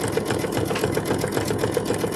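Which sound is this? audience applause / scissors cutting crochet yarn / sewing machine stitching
sewing machine stitching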